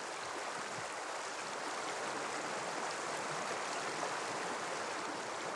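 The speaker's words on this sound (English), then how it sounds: "the first thing I hear is the beautiful sound of this river" A half-frozen river in Norway, mixed ice and open water, rushes in a steady, dense broadband wash with no pauses, close and loud, and no voices.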